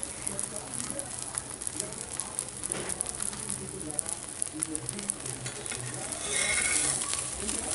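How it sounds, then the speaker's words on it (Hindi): A desi-style omelette cooks in a hot pan, giving a continuous close sizzle and crackle that swells a little louder near the end. "अभी हमारा ये ऑमलेट बन रहा है, एक साइड से गर्म हो रहा है।"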